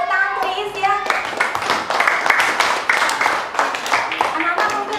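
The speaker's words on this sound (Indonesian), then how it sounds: "tepuk tangan untuk Is ya" Schoolchildren in a classroom clap for a classmate, a few bursts of hand claps over loud overlapping voices that carry through the whole moment.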